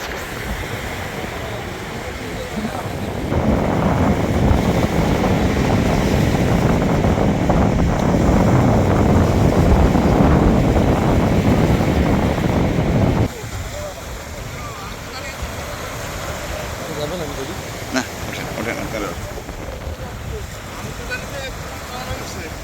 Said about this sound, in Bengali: আমাদের ট্রলার আসতেছে